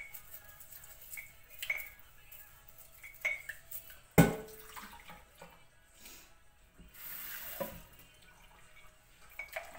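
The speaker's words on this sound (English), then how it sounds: "I'll just wash out this cup." A big cup is rinsed under a kitchen tap, with soft dripping and splashes of running water, a sharp clunk of the cup against the sink midway, and quiet clinks around it.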